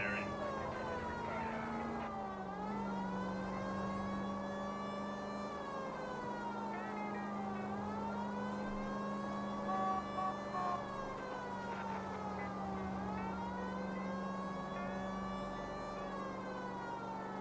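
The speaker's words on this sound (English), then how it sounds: "I'm just gonna turn on the siren." A police car siren in the video game LA Noire wails in long rising and falling sweeps over a steady engine drone, loud and continuous throughout.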